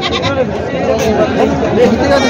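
Goats bleat repeatedly amid a busy livestock market in Parbhani, Maharashtra, their calls overlapping with a steady hubbub of crowd chatter and nearby voices.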